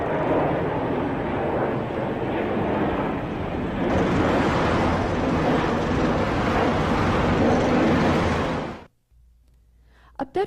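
Aircraft noise: a broad, loud roaring rush that swells partway through and holds steady, then cuts off abruptly into near silence with a couple of brief bumps at the end.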